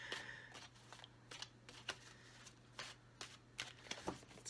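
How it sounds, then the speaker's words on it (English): Tarot cards being shuffled by hand: a quiet series of crisp, papery riffling bursts at an uneven rhythm, close up, over a low steady hum. "Let's shuffle"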